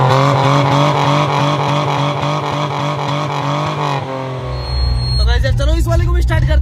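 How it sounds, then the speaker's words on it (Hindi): A car with its silencer cut off roars loudly with a raspy, racing-car-like tone, holding a steady high drone with regular pulses before the revs drop and then flare again in sharp bursts. "कटने की वजह से इसकी जो आवाज है वो किसी रेसिंग कार की तरह है।"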